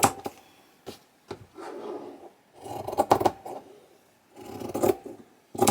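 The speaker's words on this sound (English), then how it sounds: "grab some of this green felt, and I'm going to cut some small strips." Scissors cutting small strips of green felt for a Halloween deco mesh wreath, heard as several close, crisp snips and soft rasping cuts in irregular bursts with quiet gaps between.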